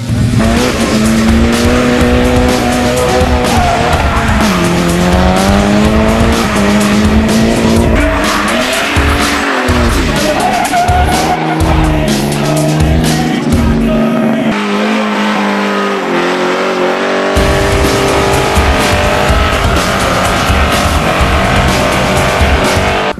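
Drift race cars at an airport drift event slide with long squealing tires and roaring, revving engines, loud and continuous, the pitch rising and falling as cars slide past.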